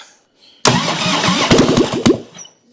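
A 1997 Harley-Davidson Springer Softail motorcycle engine, run with no exhaust fitted, cranks briefly and then catches, barking loudly and raggedly with a few sharp pops before dying back down.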